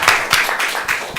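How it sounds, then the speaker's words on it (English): An audience at a business conference talk breaks into applause, close and steady hand clapping with distinct slaps running through the whole moment. "Round of applause."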